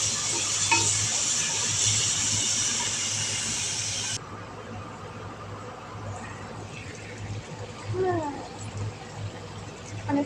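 Chopped tomatoes sautéed and stirred in a pan for an egg and tender bottle gourd dish give a steady hiss and sizzle that drops away after a few seconds, with faint scraping and a voice talking.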